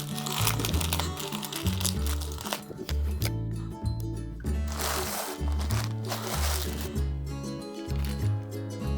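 Hands open a small parcel containing dresses, with close crinkling and rustling of plastic packaging and paper in irregular bursts over background music.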